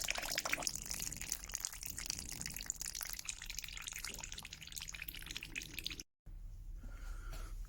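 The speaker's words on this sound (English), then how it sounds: "the liquid is going out of here too fast" Liquid draining from a sawdust briquette press trickles and drips continuously, a steady close wet hiss that cuts out briefly near the end before resuming.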